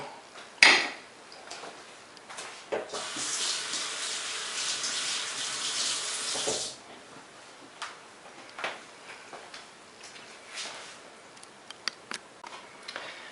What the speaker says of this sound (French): Donc voilà que j'égoutte mon saumon cuit.